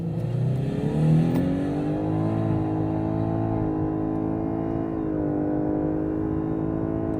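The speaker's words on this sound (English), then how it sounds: "I'm going to put the car into Sports Plus mode now, and I'm going to launch it to see how fast it is" 2018 Lexus LS hybrid launched hard in Sports Plus mode, a loud, whiny engine note rising steadily through the revs with odd, smooth gear changes audible as pitch steps, no talking.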